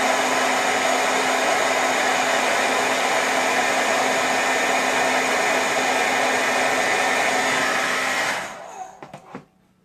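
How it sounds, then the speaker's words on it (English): A hair dryer blow drying eyelashes in a beauty routine, running as a loud, steady close whoosh with a constant motor hum for about eight seconds before switching off, followed by a few faint handling clicks. "I'm going to blow dry them up again,"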